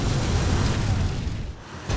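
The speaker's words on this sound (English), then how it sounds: "Lots of explosions." Deep, rumbling booms and blasts roll continuously, heavy and loud, easing briefly before another surge at the end.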